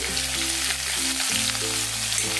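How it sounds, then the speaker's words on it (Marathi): Onion, garlic and asafoetida fry in hot oil for Maharashtrian bhogi bhaji, giving a steady, close sizzle that holds through the whole moment with no talk. "हिंग आणि लसूण ठेचून घेतला तो टाकते कांदा टाकते"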